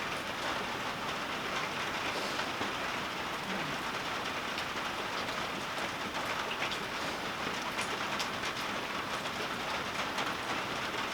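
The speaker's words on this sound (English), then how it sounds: "It's raining out there." Steady rain falls outside a porch, an even, dense hiss of drops spattering on surfaces with no pauses, moderately faint and unbroken by voices.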